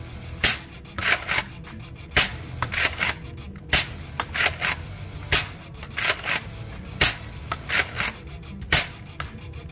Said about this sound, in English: Here is the ruby darts, five shots.